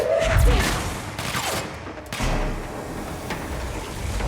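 A grenade blows up in the Control video game: a loud, close boom with a rumbling low burst, followed by scattered crackling debris and further sharp blasts fading out.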